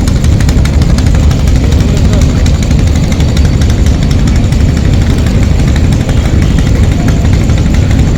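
Twin Yanmar engines of a Barisal–Dhaka passenger launch run with a steady, loud low rumble and a constant drone throughout, with no breaks or changes in pace.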